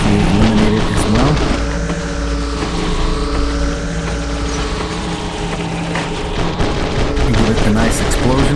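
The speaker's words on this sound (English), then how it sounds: "Give it a nice explosion, a nice boom" Combat in the War Robots mech game: rapid mechanical clatter and gunfire bursts over a droning engine-like hum, with a sweeping tone rising and falling midway, all loud and close.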